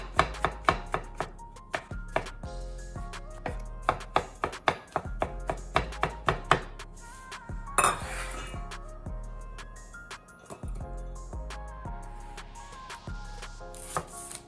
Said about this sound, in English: For the ravioli stuffing, I'm gonna finely chop some mushrooms.